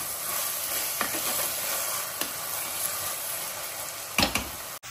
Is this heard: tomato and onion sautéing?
yes